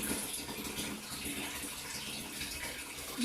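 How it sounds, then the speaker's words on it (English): Cooled boiled kettle water pours steadily into rhubarb wine, a continuous close splashing gush that stays loud and even throughout with no talking. "I'm going to take some of this water and add"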